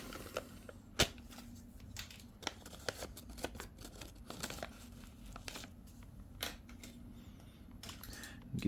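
Packaging for a new air/fuel mixture screw for a 2025 Beta 300 Race dirt bike is cut open at close range: quiet crinkling and snipping with scattered sharp clicks and rustles, no voices.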